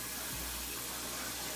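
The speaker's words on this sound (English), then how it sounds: "Gonna fill this up with water." Tap water runs into a cooking pot as it is filled about halfway, a steady hiss of flowing water lasting the whole short clip with no talking.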